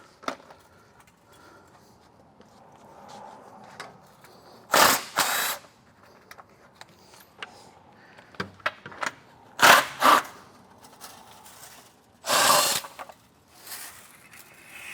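Power tool with a 15/16 socket driving bolts to remove a curb broom segment, loud whirring bursts of a second or so repeated several times with quieter metallic clinks between them, close and alone.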